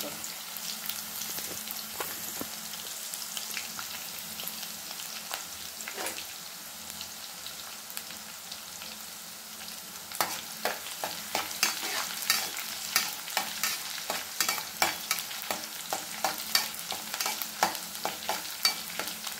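Onion and coriander fry in a pan for a drumstick-leaf and toor dal stir-fry, with a constant soft sizzle and frequent spatula scrapes that grow louder and busier toward the end.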